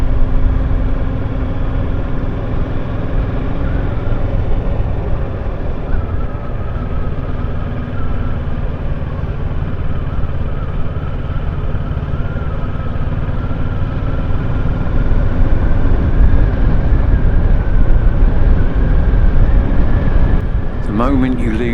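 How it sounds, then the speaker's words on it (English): A motorcycle rides a quiet mountain road in the Costa Blanca area of Spain, a steady, close engine drone with constant wind-like rush that stays loud and even throughout, with no talk. "just the sound of the bike and the road unfolding ahead."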